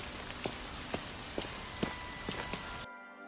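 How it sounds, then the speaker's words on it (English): Footsteps squelch through soggy dirt in the block-building video game Hytale, about six evenly spaced steps over steady rain-like hiss that cuts off abruptly near the end. "soggy footprints in the dirt"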